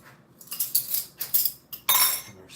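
Ceramic bowls and cutlery set out on a table for a ratatouille meal, giving a series of close, bright clinks and clatters in irregular bursts, with one louder knock near the end.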